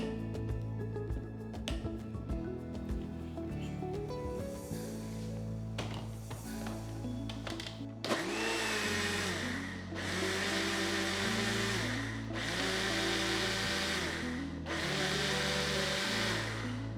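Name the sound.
blender beating eggless mayonnaise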